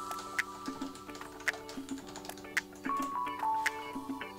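Keys clatter on a Realforce keyboard in quiet, irregular bursts of close clicky taps, alone without voices.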